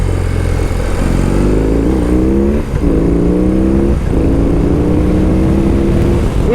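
A BMW R 18 premium cruiser motorcycle's big engine rumbles loudly and close, pulling through several rising gear-by-gear accelerations with brief dips between shifts.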